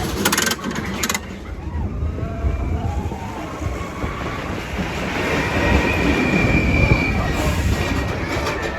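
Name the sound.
Expedition Everest roller coaster train ride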